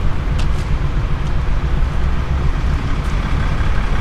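Trucks rumble in a Walmart parking lot with a low, steady engine drone and a few faint hissing bursts like air brakes, continuous and fairly loud with no talking.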